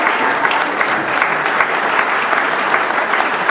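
An audience at a concert applauds loudly and steadily, with a dense wash of clapping hands throughout and no voices standing out.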